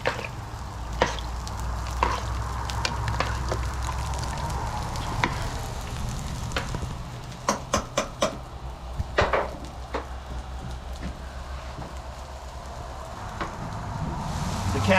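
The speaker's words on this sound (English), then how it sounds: "I'm going to stir in that hamburger I just added over here." Hamburger meat fries on an outdoor Blackstone griddle with a low, steady sizzle, while a series of sharp spatula scrapes and taps come through clearly near the middle, with no talking.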